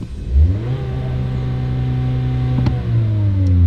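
A car launches hard with stability control switched off, its engine revving loudly and the pitch climbing and holding as it accelerates, close and with no voices.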